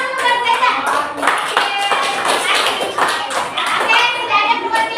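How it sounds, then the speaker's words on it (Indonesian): A classroom group claps in a brief round of applause, dense and fairly close, with children's voices mixed in. "Tepuk tangan dulu buat Zaidan."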